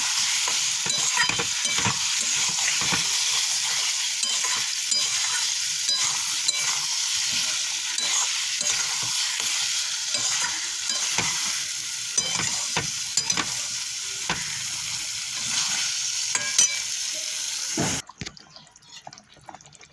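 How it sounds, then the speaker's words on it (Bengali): Masala spices sizzle hard in a hot pan for a long stretch, stirred with frequent scraping and crackling, until the sizzle drops away abruptly near the end. "আমার মশলাটা প্রায় কষানো হয়ে গেছে"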